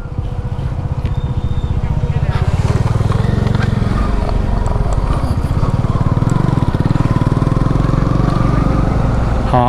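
Motorcycle ridden along a road in Ladakh, its engine thrumming loudly and continuously with a fast pulsing beat and some wind rush throughout.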